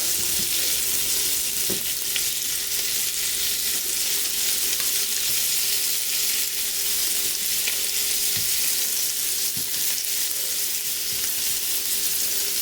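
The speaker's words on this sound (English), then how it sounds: "we don't want to overcook them, we just want to sear them" Prawns sear in a hot frying pan with a loud, dense, continuous hiss and crackle that stays even from start to finish, broken only by a few faint knocks. No one talks.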